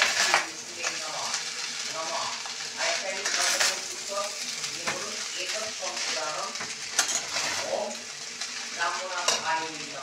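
A utensil stirs food in a frying pan cooking with ghee and salt, giving a continuous sizzle broken by scraping strokes and light metallic clinks against the pan.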